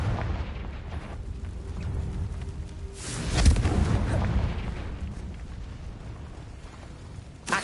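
A Confringo fire spell detonates in the Hogwarts Legacy game, a deep rumbling blast swelling midway through a low, steady game-ambience roar, with a smaller thump at the end.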